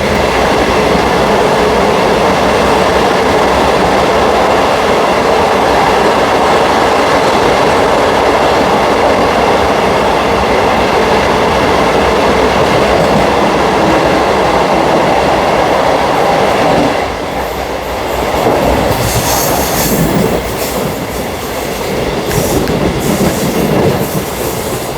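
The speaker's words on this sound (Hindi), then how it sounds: "अब टनल में अपनी ट्रेन एंट्री करने वाली है" An Indian express train on the Nagpur route roars loudly from onboard, a dense continuous rumble of wheels and wind, then the tone shifts with rhythmic clatter as it enters a short tunnel.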